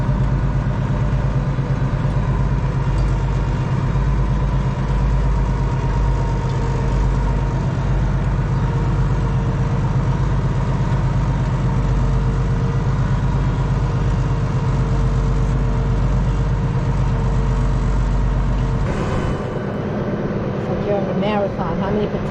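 A tractor engine runs steadily during manual potato planting, a loud continuous low rumble that holds for about nineteen seconds before dropping away near the end.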